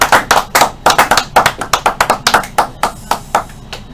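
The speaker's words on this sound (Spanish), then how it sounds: "Vamos a darle un aplauso" A few people clap for a guest athlete, the sharp, separate hand claps close and loud, falling into a loose rhythm that thins out toward the end.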